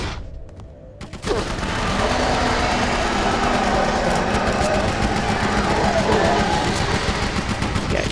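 Sustained, dense video game gunfire rattles loud and continuous after a brief quieter opening, many rapid shots blurring together into a steady roar.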